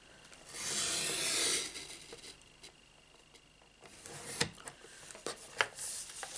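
A blade slices through a piece of card stock for a Stampin' Up card, a soft rasping scrape lasting over a second, then quiet followed by scattered light taps and clicks as the trimmer is handled.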